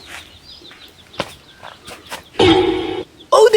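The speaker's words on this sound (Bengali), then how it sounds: "ও দেখ মুরগি একটা পাই লইছি" A chicken gives a few loud clucks and squawks in short bursts near the end, close by, after quieter rustling and scattered background sounds in a rural Sylheti village setting.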